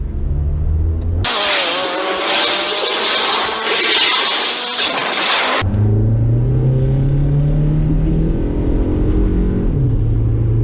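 A turbocharged Toyota Corolla accelerating hard, first a loud broadband roar and whoosh, then a steady engine drone with rising tones as it pulls through the revs, recorded from close by.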